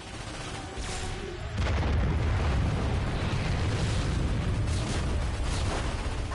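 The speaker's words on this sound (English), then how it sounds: "Cannons ready! Fire!" Video game cannon fire: heavy booming blasts roll into a dense, sustained roar of explosions, loud and continuous with rumbling bursts layered on top.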